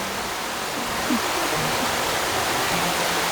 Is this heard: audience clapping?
no